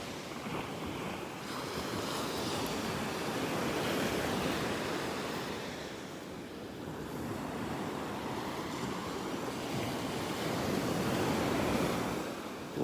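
Ocean surf washes steadily onto a beach in North Naples, Florida, on an overcast Saturday morning, a continuous broadband roar that swells and eases with each wave, mixed with light wind buffeting the microphone and no voices.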